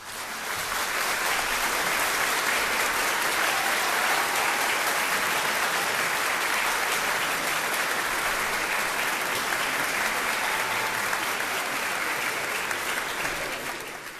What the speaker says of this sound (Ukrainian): Вітайте оплесками Кавеловик!